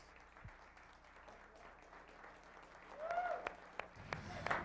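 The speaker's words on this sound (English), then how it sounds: "The crowd is a very knowledgeable crowd, and they're giving Johnny a hand for 5 really racks in a row" During an 8-ball match between Johnny Archer and Efren Reyes, a crowd applauds Archer, faint scattered claps building late in a quiet hall with a faint voice in the background.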